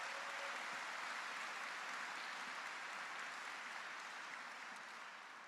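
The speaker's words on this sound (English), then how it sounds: "Please, a round of applause for our leader here." Steady, dense applause from a large audience at an engineering graduate recognition ceremony, heard faint and distant throughout and tapering slightly at the end.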